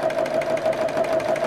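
Sewing machine stitching a running stitch on fabric for a bag, a steady close mechanical hum with a fast, even pulsing rhythm running the whole time without pause.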